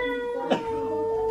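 A cat meows once outside a door, a short close yowl rising above a steady background hum.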